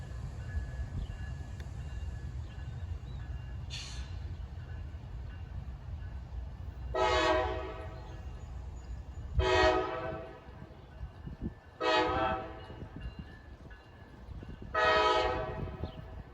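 A Norfolk Southern freight train with a Conrail caboose rolls by on a hot morning, a low rumble of wheels and cars under five loud, blaring horn blasts spaced a few seconds apart, the later ones longer.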